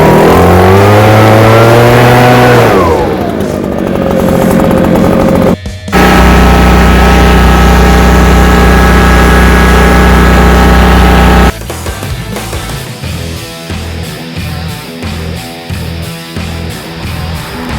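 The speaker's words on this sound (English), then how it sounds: "This is the best backpack blower on the market right now." A gas-powered backpack leaf blower running outdoors, a loud, close engine roar that revs and drops, then settles into a steady drone before shifting into a rougher, choppier tone, with no talking.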